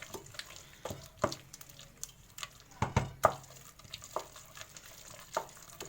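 A spoon scrapes and knocks against a pot in irregular strokes, thick wet stirring sounds of profiterole choux dough as eggs are worked in, with occasional sharper clacks, close up and without talk.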